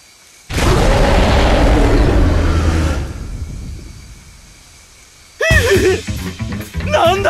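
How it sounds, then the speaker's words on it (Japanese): A monster in the Tales of Crestoria game lets out a loud, sustained roar lasting a couple of seconds. It fades into quiet before wavering, voice-like cries break in near the end. "これは、 魔物の声。"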